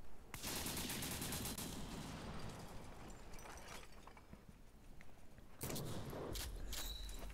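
Rapid bursts of gunfire from a Sauer M30 rifle in a shooter video game, sharp loud cracks clustered at the start and again near the end, with no talking.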